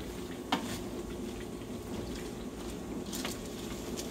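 Meatballs sizzle steadily in a hot pan as they are turned, a close, constant frying hiss with a couple of brief clicks and scrapes from the utensil.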